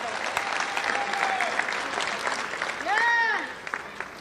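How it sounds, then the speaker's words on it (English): Clapping and cheering at an eighth grade graduation, a steady crowd applause with several sharp whoops and whistles rising over it. The burst swells near the end. "Y'all got to clap it up."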